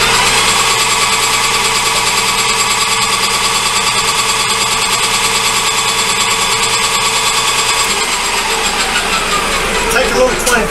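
Machine cut taking twenty thousandths off a part being machined in stainless, brass or Delrin: a loud, steady buzzing chatter with a constant drone underneath that runs unbroken for about eight seconds and then shifts as the cut ends, with voices talking over it.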